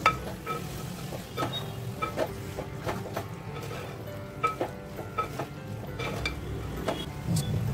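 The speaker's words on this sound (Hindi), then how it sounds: "सौते कर लेंगे, मिला लेंगे और थोड़ा सा पानी डालकर मटन पकने के लिए ढक कर रख देंगे।" Mutton being sautéed and stirred in a clay pot, giving repeated scraping and knocking of the spoon against the earthenware over a low continuous sizzle, fairly soft and close.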